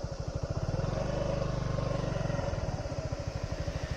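Motorcycle engine idling and revving steadily in a low, rapid pulsing rhythm while rolling downhill after nearly stalling, close and loud throughout.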